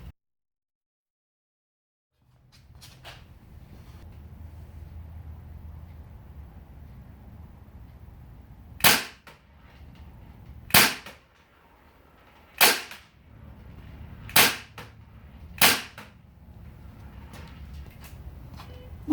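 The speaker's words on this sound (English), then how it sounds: "My one BB pistol has a red dot laser sight mounted on it, so we'll try that one" A BB pistol with a red dot laser sight fires five sharp, snappy shots at a target at a moderate range, spaced about two seconds apart over a low background hum.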